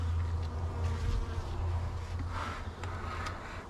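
Honey bees hum in a dense, continuous drone around an observation hive outdoors, the buzz steady and close without any talking.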